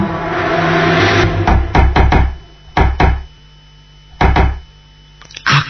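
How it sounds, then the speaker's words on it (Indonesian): Loud, sharp knocks land on a bathroom door in a radio horror drama, coming in quick clusters of two and three with short pauses between, close and forceful, and no one speaks. "aku mendengar pintu kamar mandi diketuk dengan keras"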